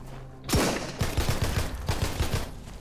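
A pistol and other gunfire ring out in the survival game Sunkenland: a sharp shot bursts in, then a ragged run of quick repeated shots with booming low thuds follows, loud and close, no speech over it.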